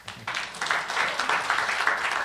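A church congregation at a Sunday celebration service gives a steady round of applause, with many hands clapping at a moderate distance, continuous and even.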